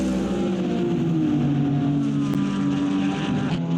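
A Ferrari GT race car at the Bahrain circuit roars past on the final straight, a steady, loud engine note with slowly falling pitch.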